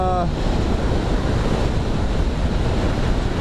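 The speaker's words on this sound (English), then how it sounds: "once the wind kind of calms down" Heavy wind buffets the microphone during a highway motorcycle ride, a loud, continuous rushing roar that fills the whole clip.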